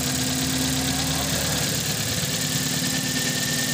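A Toyota Vios engine with a sticking starter runs steadily close by, a continuous mid-pitched idle with faint knocking and vibration and no talk over it.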